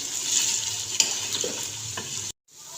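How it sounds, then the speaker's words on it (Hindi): Ginger garlic paste frying in a karahi with steady sizzle and scraping stirs, a sharp clack near the middle; the sound cuts off abruptly near the end, then faint sizzle returns. "अदरक लहसुन का पेस्ट डालने के बाद इसको हम 2 से 3 मिनट अच्छे से भून लेंगे"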